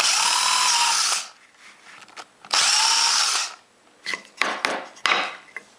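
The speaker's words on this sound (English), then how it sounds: "Now I can go ahead and drill the actual size hole." A power drill bores a hole in a wooden workbench to mount a woodworking vise. Two long, loud whining bursts are followed by several short on-off triggers, heard up close with no talking.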